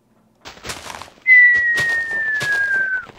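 A sustained whistle in the Minecraft video game on a survival and puzzle map rings out loud and steady, its pitch sliding slowly downward for about two seconds after a few brief clattering sounds.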